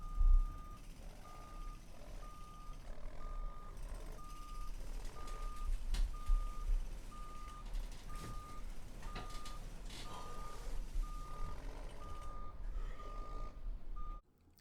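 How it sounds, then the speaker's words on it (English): Construction vehicle reversing alarm beeping in a steady, evenly spaced series of tones over a constant low rumble of engine and traffic, lasting the whole stretch before cutting off. "you feel like there is construction vehicles happening or construction somewhere in your head"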